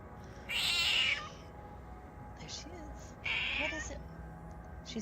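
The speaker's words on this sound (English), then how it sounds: "She's sitting here meowing at me like that." An elderly cat, nearly twenty years old, meows indoors: two loud, drawn-out meows about two seconds apart, with quieter chirps between them over a low room hum.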